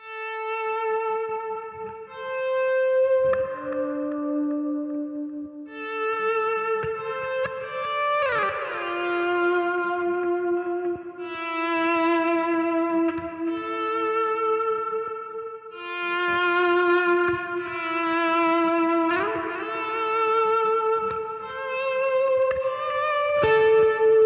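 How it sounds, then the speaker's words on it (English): Clean electric guitar notes swell in slowly through a volume swell and ring out under a wide, spacey reverb pedal, chords and single notes blurring into long shimmering tails. "I've been using it with the volume swell and then this really cool spacey reverb"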